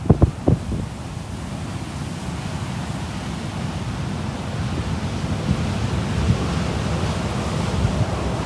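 Ocean waves breaking on a beach during a snowstorm with coastal flooding, a steady washing surf roar with heavy wind buffeting the microphone and a few brief knocks at the start.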